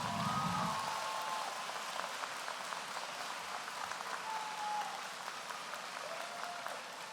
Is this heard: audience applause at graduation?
yes